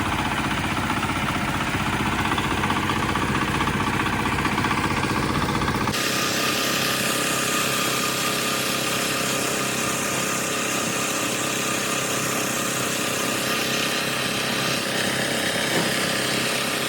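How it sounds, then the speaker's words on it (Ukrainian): A small tractor engine runs continuously on the way into a forest. The loud, close, buzzing drone changes tone abruptly partway through and carries no voices. "вирушаємо ліс ось на такому тракторцю."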